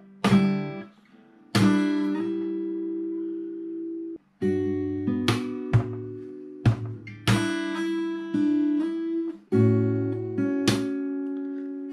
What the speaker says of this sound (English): you want to thump with your wrist twice, slap and strum